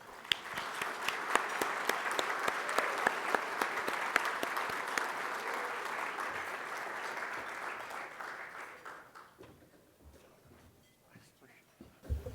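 An audience at a Free Market Medical Association evening conference breaks into sustained applause for about eight seconds, many hands clapping together at a steady level, then the clapping thins out and fades to scattered claps.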